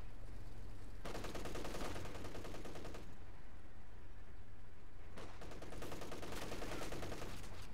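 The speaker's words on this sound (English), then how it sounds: "Sustained MG fire." Sustained machine gun fire in the Company of Heroes strategy game, with two long bursts of rapid automatic shots at moderate distance and a quieter gap between them, and no talking.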